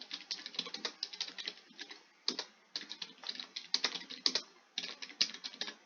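Quiet, close typing on a computer keyboard, with bursts of rapid key clicks broken by short pauses and no talk.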